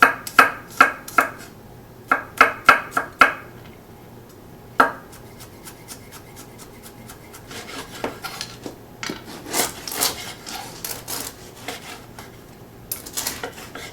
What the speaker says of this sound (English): with the heel of your knife, you give it a small whack